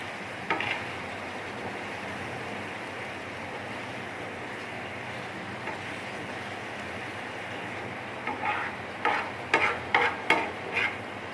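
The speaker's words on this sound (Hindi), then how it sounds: "अब इसको मिक्स कर देते हैं ज़रा।" Chicken tawa boti mixture with green chillies and fresh coriander being stirred by hand, a steady soft scraping and shuffling with a run of sharper, louder scrapes near the end; no talk.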